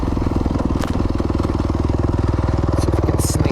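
A Kawasaki KX250X dirt bike engine chugs at low revs on mountain terrain, a loud rapid rhythmic thumping pulse running steadily throughout with a few brief clanks and scrapes.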